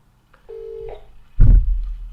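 A telephone being dialed: a couple of faint short keypad tones, then a steady tone lasting about half a second, followed by a louder low thump or handling knock near the end.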